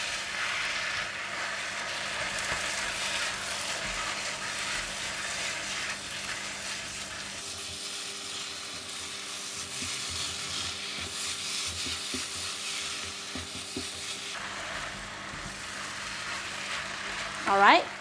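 Lou shu fun noodles with minced pork and egg are stir-fried in a pan, a steady close sizzle under continuous scraping and tossing of a spatula, with the fry briefly quieting midway before resuming.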